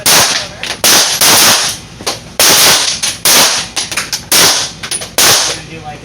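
Handgun shots fired at a firearm training range, a rapid series of loud, sharp reports in quick bursts of two and three with brief pauses between, close and dominant.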